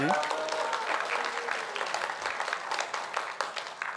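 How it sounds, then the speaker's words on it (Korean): Church congregation applauds during a Sunday worship service, a dense, steady burst of clapping that fills the room for several seconds at moderate volume. "자, 박수로 한번 다시."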